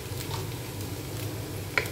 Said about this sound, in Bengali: লাস্ট হচ্ছে একটু ঘি দিয়ে দেবো